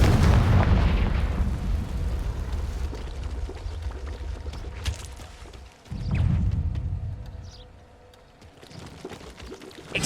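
Confringo blasting curses from Hogwarts Legacy burst in heavy booming explosions, a loud rumbling blast at the start and another around the middle, each decaying into crackling debris, with no talking.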